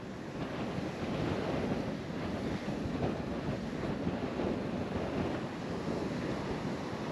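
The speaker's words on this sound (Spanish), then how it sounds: "Tú puedes observar y ver la furia del mar, como choca con los rompeolas." Rough sea waves crash against breakwaters at Escambrón beach in San Juan, Puerto Rico, a steady loud roar of surf with wind buffeting the microphone throughout.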